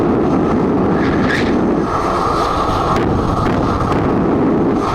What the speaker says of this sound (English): That's what happens when the jet runs, isn't it? That's an F-16 from Pakistan.